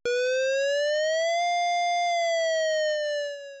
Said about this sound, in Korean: 파상음이 진짜 실제 공습 경보예요.